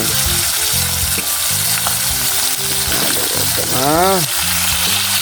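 Pieces of dried fish (daing) fry in hot oil with a steady, loud, close sizzle and crackle throughout, while a brief tonal sound rises and falls in the middle.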